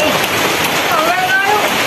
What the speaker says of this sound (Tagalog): Ligo na talaga kami mga master sa ulan.